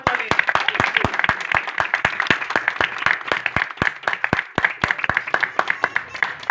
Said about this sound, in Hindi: एक बार फिर से जोरदार ताली